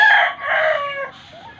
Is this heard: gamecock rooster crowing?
yes